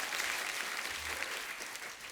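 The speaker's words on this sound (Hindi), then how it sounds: "जोरदार तालियां" Dense, steady audience applause fills the whole stretch at an even level, with many hands clapping together and no voices over it.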